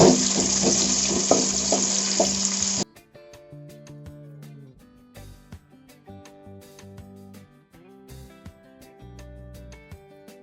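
Chopped onion being stirred in a hot frying pan for chilli chicken, a loud close sizzle with scraping stirs that lasts about three seconds before giving way to music.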